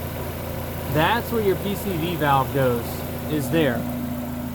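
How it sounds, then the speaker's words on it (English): Steady, low idle of a 1995 Mazda Miata MX-5 NA engine, with its PCV valve grommet removed, hums beneath someone speaking close by. "We're doing some other maintenance work right now, which is why the engine's running."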